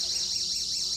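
A door alarm on an exit door sounds steadily and loudly, a bright high-pitched electronic tone with a faint warbling pulse, heard alone with no voices.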